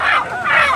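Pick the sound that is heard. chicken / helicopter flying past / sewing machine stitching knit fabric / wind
chicken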